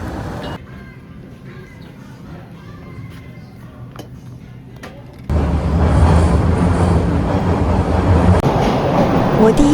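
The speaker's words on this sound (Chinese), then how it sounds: "我第一次乘坐地铁2号线" A Toronto subway Line 2 train rides along the track. A quieter rumble with faint clicks gives way midway to a much louder, steady roar of rails and carriage noise from inside the moving car.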